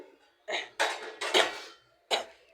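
Dishes and utensils clink and clatter in a few short, separate bursts while being washed by hand at home, close up with quiet gaps between.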